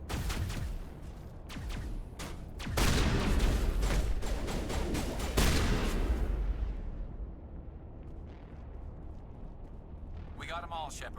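Sniper rifle fire in the Mass Effect video game, a run of loud, sharp, blasting shots packed closely over several seconds amid battle noise, fading to quieter ambience, with a voice talking over parts of it.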